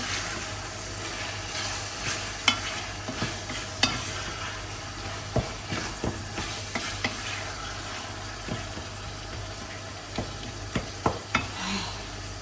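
Ground meat frying in a pan for Lebanese kibbeh: a constant, close sizzling hiss runs throughout, broken by repeated sharp spatula scrapes and taps against the pan, with no talking.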